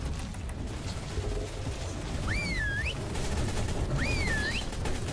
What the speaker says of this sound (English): No, I have a machine gun going.